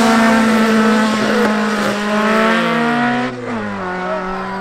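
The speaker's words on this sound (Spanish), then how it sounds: "este 86 está tratando de calentar las llantas antes de salir o tratar de quemar las llantas para salir más rápido" A Toyota 86 at a drag-racing meet revs hard at high rpm while spinning its tires to heat them before launch, then the engine pitch drops sharply near the end. Loud and close, with no talking.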